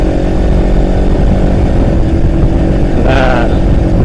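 A loud, close Honda CBR 250RR motorcycle engine runs steadily throughout with a dense droning rumble, rising briefly in pitch near the end as it revs.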